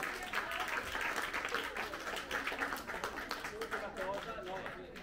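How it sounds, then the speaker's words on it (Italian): Audience applause at a Rotary Club gathering, a full crowd clapping continuously and fairly loudly while voices chatter and call out beneath it. "Un applauso a Alessandro."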